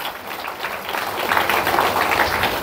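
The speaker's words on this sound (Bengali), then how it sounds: "এর জন্য একটা হাততালি হওয়া উচিত" An audience breaks into applause at a marketing seminar, a dense, steady wash of clapping that swells slightly and holds throughout.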